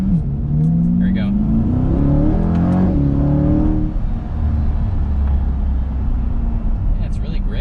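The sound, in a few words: Chevrolet Corvette C8 convertible accelerating after downshift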